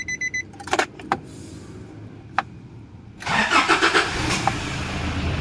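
A Nissan Navara Frontier pickup with a low-power fault is started: a few keys clink, then the starter cranks and the engine catches and settles into a loud, close, rumbling idle.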